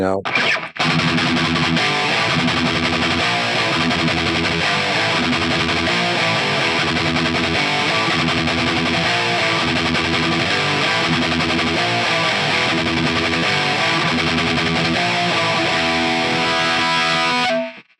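Heavily distorted electric guitar, an Epiphone Kirk Hammett 1979 Flying V on the bridge pickup, chugs out a steady, driving metal riff, loud and continuous for the whole stretch before cutting off abruptly.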